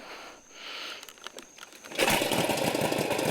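A 1948 Indian motorcycle engine fires after a kick: a few faint clicks, then a sudden loud catch into a steady, rattling, close idle that holds to the end.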